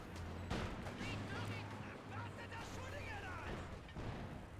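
Mortar half-track firing in the World War II strategy game Company of Heroes 2: a dull launch burst early on, then steady battle rumble and scattered shots under continuous commentary from a caster.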